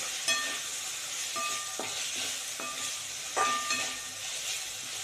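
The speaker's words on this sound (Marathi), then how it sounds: "भाजी चांगली हलवून घ्यायची" Vegetables for high-protein soya chilli are stirred in a hot pan, a moderate continuous sizzle broken by occasional spatula scrapes and light taps against the metal.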